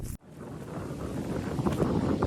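Gusty wind on a chilly fall day in Iowa buffets the microphone in a steady low roar that builds slightly after a brief dropout at the start; no voices.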